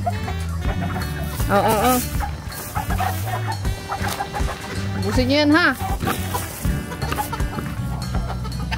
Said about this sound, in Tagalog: Ito yung mga manok ni Boss.